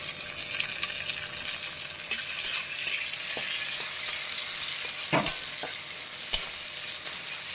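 Tomato frying in hot oil in a pan, a steady close sizzle with occasional stirring scrapes and a couple of sharp knocks of the spoon.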